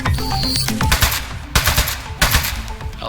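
Gunfire in the video game Aperture Desk Job: rapid bursts of shots over a busy game soundscape, with two sharp, loud volleys standing out partway through.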